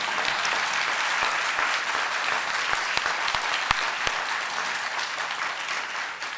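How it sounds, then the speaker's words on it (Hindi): Steady audience applause at a Dainik Jagran event in Dehradun, dense and fairly loud, with a few sharper individual claps standing out throughout. "अगर ताली मारनी है तो जोर से बजाइए"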